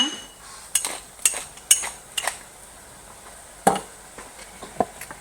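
Spoon scraping and clinking against a pot while spiced red lentils are stirred, a few sharp metallic knocks spaced irregularly over a quiet kitchen background.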